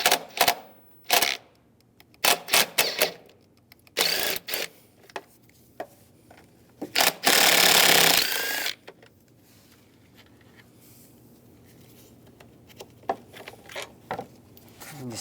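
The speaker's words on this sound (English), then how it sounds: "There's two bolts on the side right here and right there. Use a 10mm socket," A 10mm socket removes bolts on a 2002-2009 Chevrolet Trailblazer, with ratchet clicks, metallic clatter and scraping coming in bursts close up. One longer, louder stretch of grinding and rattling sits in the middle. No one speaks.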